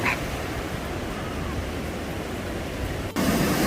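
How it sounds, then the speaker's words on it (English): Ocean waves wash onto the beach at East Runton with surfers out, a steady, soft hiss of surf, with a brief louder surge near the end. "Waves aren't actually too bad today."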